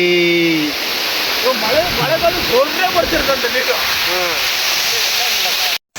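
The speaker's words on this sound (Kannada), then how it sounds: "ಫೈನಲಿ ಸ್ನೇಹಿತರೆ ಫಾಲ್ಸ್ ಮಾತ್ರ ಮಸ್ತಾಗಿದೆ ನೀರು ಸ್ವಲ್ಪ ಕಡಿಮೆ ಇದೆ" Santhosh Falls, running with somewhat low water, pours in a loud, steady broadband roar from start to finish, with someone speaking over it.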